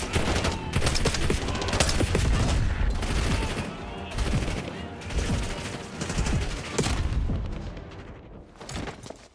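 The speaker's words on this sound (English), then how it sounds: "We're taking heavy fire at the helo." Dense, sustained automatic gunfire and booming explosions from a helicopter crash-site firefight in the video game Call of Duty: Black Ops 6, loud and continuous with bursts swelling and fading.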